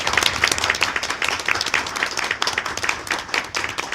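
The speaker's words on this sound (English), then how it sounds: "So we thank you and we applaud you tonight." Audience at a school board of education meeting applauding staff, a lively round of many hands clapping with sharp individual claps standing out, steady and close throughout.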